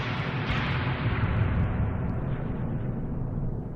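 A heavy thud from Final Fantasy 7 as Cloud lands in a church, a deep, loud rumbling impact that lingers and slowly fades over a few seconds.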